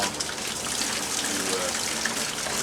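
Water from fish tank containers is poured out onto trees, making a steady, close gush that runs without a break for the whole stretch.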